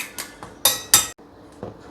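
A wok is being scrubbed clean in a home kitchen, giving a few bright metallic clanks and scraping knocks in quick succession, close and fairly loud, with no talking.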